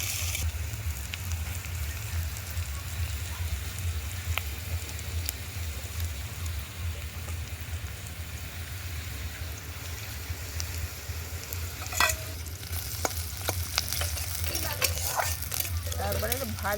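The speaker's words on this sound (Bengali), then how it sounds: "পেঁয়াজগুলো ভালো করে ভেজে নেব" Onions fry in oil for biryani birista in a home kitchen, giving a steady, moderate sizzle with occasional stirring clinks near the end.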